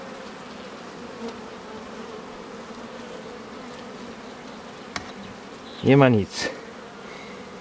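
Bees, a Caucasian strain among them, hum in a steady, low drone around an almost empty apiary hive. A short spoken remark briefly rises above the buzzing near the end.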